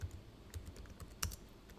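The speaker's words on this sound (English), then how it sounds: "I'm going to be typing the symbol for AVGO." Keys on a computer keyboard being typed, entering a stock ticker symbol: a steady run of light, close clicks and taps at an uneven pace, with no voices.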